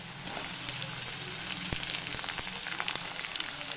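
Sliced onion drops into hot oil already browning ginger and green chili, a steady soft sizzle with faint crackles and occasional clicks of stirring throughout, fairly quiet and free of speech.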